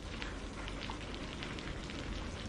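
Steady rain falls during a monsoon-style downpour outdoors among trees, a dense continuous hiss of drops with no gaps, even and moderately loud throughout, with no voices.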